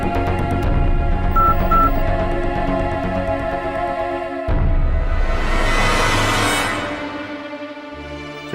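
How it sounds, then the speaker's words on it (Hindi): Tones of a phone being dialed sound over a dense music-like background, a short run of beeps early on, followed by a swelling hiss in a tense horror scene. "उन्हें फोन करता हूँ।"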